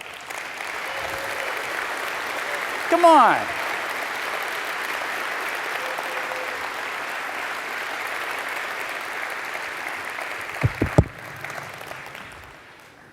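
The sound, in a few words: audience applause for user group leaders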